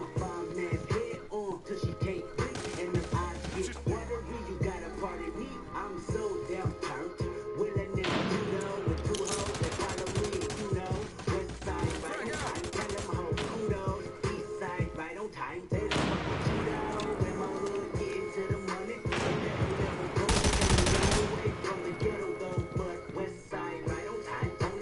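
Gunfire and impacts in a first-person shooter video game come in repeated bursts, loud and dense, with a person talking over them.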